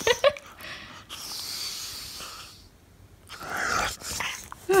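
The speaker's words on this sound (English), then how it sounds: "don't chew the couch. Don't chew the couch." An English bulldog chews on a couch up close, with snorts, heavy breathing, and short growly grumbles coming in uneven bursts separated by brief quieter gaps.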